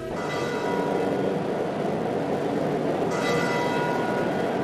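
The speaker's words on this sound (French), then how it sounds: "Les sons de la cloche retentissent." Church bells peal steadily across Saint Peter's Square in Rome during the funeral gathering for Pope Benedict XVI, a dense, continuous ringing over an open-air crowd, with a fresh stroke swelling in near the end.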